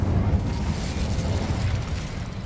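Incendio fire spell cast in Hogwarts Legacy, a dense whooshing burst of flame with a low rumbling boom, loud at the start and then churning steadily for a couple of seconds.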